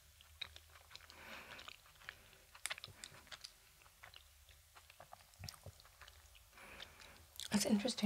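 Close, crunchy chewing of a chewy peanut marshmallow treat with uneven bites and crackles, quiet and intimate, with a louder crunch near the end.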